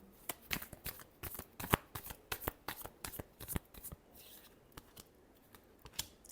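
Tarot cards shuffled by hand at close range, a rapid run of crisp riffling and slapping bursts that slows toward the end, with no voices.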